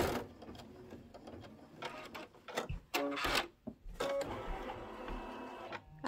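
An embroidery machine stitches a seasonal table runner with uneven mechanical chattering, clicks and short whirring bursts, close and moderately loud, pausing briefly midway.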